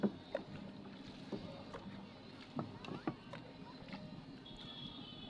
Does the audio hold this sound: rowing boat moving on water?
yes